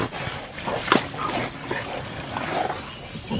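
Hunting dogs on a wild boar hunt yelping and whimpering in the distance, with short sharp barks over outdoor background noise.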